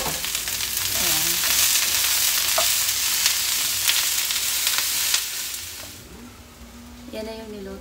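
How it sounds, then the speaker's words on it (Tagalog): Cauliflower and mushrooms are stir-fried in a hot pan for a meatless vegetable chop suey. Steady loud sizzling with stirring clatter carries for about five seconds, then fades. A voice speaks briefly near the end. "Niluluto ko muna yung cauliflower."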